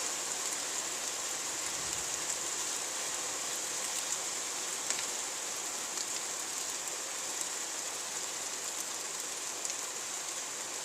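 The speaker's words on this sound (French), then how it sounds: "La pluie qui est forte." Heavy rain pours during a violent July thunderstorm in Carpentras, a steady, dense hiss of falling water with no voices.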